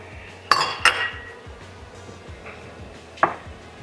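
A utensil stirs pork bistek with onion rings and mushrooms in a pan, giving a few sharp metallic clinks and knocks, two close together early and one later, over a low steady background hum.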